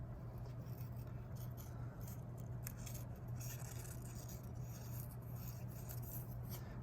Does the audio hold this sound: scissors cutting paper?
yes